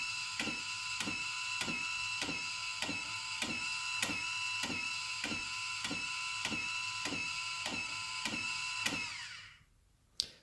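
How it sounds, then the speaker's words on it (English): A SENECT feeder dispenses feed during calibration, its mechanism ticking in a steady rhythm of short clicks about every half second over a constant whir for roughly nine seconds before it stops. "So the feeder will start and give out feed for 10 seconds."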